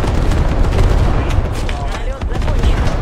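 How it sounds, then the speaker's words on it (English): Double artillery barrage in the Squad game, a dense continuous rumble of blasts and booms, loud and close, with rapid crackling impacts layered throughout. "This is double artillery."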